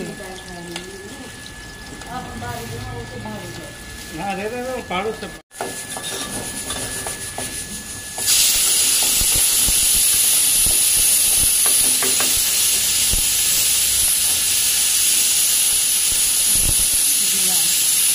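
Liver fries in oil in a pan for boti curry. A voice talks over the quieter start, then a loud, steady, close hiss of frying takes over and holds to the end.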